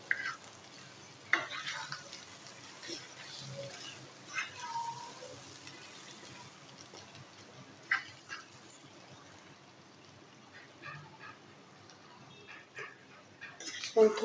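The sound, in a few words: chicken boti being fried and stirred in a pan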